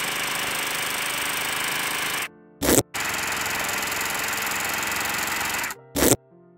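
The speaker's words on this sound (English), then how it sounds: "When I was done sewing, I serged all the loose edges." Serger overlocking the loose fabric edges of dress pieces: a loud, steady mechanical whir that runs in two long bursts, each stopping abruptly, with a brief sharp clatter after each stop.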